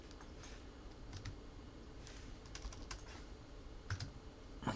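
Faint, sparse keystrokes on a computer keyboard, a handful of light taps in small clusters over a low background hiss.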